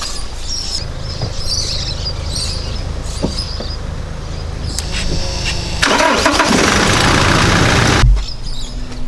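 A 4WD diesel engine cranks and catches after a fuel pre-filter kit install, with a burst of loud broadband noise from the start and rough running settling toward idle near the end, close to the mic.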